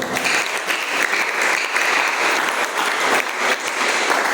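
Loud, sustained clapping from a church congregation giving palms to the Lord, many hands in a thick continuous roar with slight pulsing, no clear voices over it.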